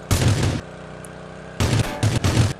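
Bursts of gunfire in a video game, a loud volley of rapid shots, a pause with low background noise, then two more short close bursts.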